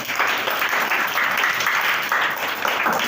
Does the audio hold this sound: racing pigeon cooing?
no